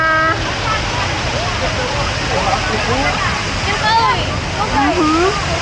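Water splashes and pours steadily at a small waterfall in the warm spring pools of Gan HaShlosha National Park, Israel, a continuous near rush under lively voices and chatter of a busy crowd.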